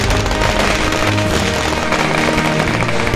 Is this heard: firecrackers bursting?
yes